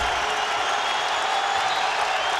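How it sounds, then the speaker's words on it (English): A basketball crowd at Marquette at Providence cheers and applauds, a steady wash of clapping and crowd noise at even loudness throughout, with a faint voice underneath. "Crowd likes it"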